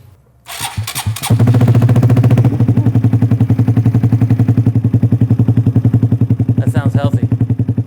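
A Honda Grom motorcycle with a Vance and Hines full aftermarket exhaust starts with a few sputters, then idles loudly with a fast, choppy, popping exhaust rhythm; a brief throttle blip near the end.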